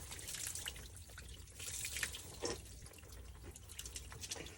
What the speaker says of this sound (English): You can see the water's actually slowing down